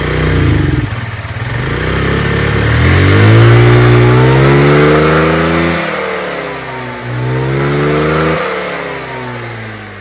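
A cheap Chinese motorcycle engine runs after an idle adjustment, revving up and settling back down in repeated rising and falling sweeps, loud and close, with no talk over it.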